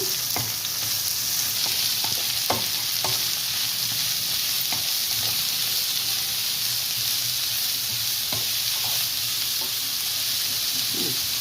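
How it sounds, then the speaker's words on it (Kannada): Bitter gourd pieces with salt being stirred in a hot pan, a steady broadband sizzle throughout with scattered scraping clicks of the spoon, close and alone without voices. "ಈ ಸೈಜಲ್ಲಿ ಕಟ್ ಮಾಡಿರೋ ಅಂಥ ಹಾಗಲಕಾಯಿ ಹಾಕ್ಕೊಳ್ಳೋಣ ಸಾಲ್ಟ್ ಹಾಕ್ಕೊಳ್ಳೋಣ ಚೆನ್ನಾಗಿ ಮಿಕ್ಸ್ ಮಾಡೋಣ"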